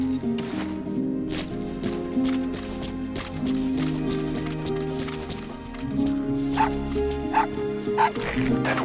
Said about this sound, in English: That wild dog Pup.